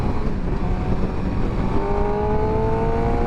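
A 2023 Suzuki GSX-R600 sport motorcycle engine revs up from low rpm, a loud, close, steady drone whose pitch slowly rises, with rushing wind noise over it and no talking.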